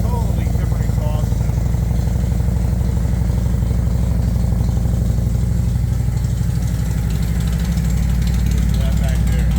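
An Indian motorcycle sits in neutral, its engine idling with a steady, deep exhaust rumble that stays close and loud throughout, while people talk over it.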